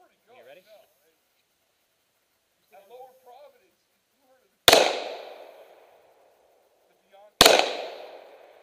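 Two handgun shots at an outdoor fish and game club shooting range fun shoot, each a single loud sharp crack with a trailing decay, a few seconds apart, preceded by brief quiet voices.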